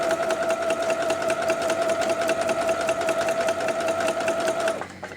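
A sewing machine stitches through an Ohio Star quilt patchwork block with a steady, close, even whir that runs without a break and then stops just before the end.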